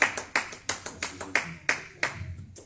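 A church congregation claps in uneven bursts, roughly a dozen sharp hand strikes scattered across a few seconds, moderately close and fading near the end, with no speech over it.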